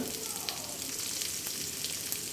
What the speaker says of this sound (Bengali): এখন আমি এগুলাকে একটু হালকা ব্রাউন কালার করে ভেজে নিব